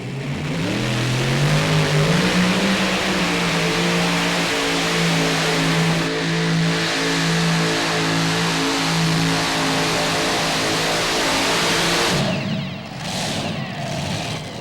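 Unlimited Modified tractor pulling run: a loud, sustained roaring engine that climbs in pitch and holds at high revs for most of the pass, then drops away near the end.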